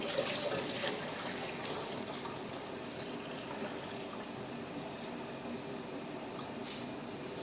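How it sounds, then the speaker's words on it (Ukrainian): A steady stream of water pours into a jar of red currant and raspberry compote without pause, close and fairly quiet, with no voices. "Знову сюди заливаю воду."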